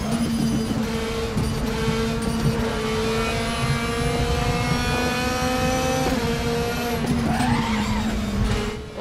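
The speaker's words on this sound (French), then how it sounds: "On bloque les roues." A race car in the Raceroom racing game, its tyres skidding as the wheels lock under heavy braking, over a steady droning engine note that rises near the end, loud and continuous with no talk.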